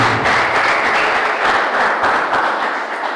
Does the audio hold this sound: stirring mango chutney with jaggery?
no